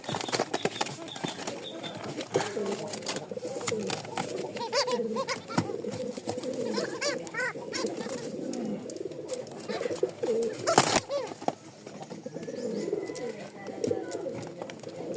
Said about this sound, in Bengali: এই হচ্ছে ককার ডাক